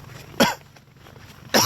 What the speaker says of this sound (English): Not used to this cold weather. Makes me cough even more than usual.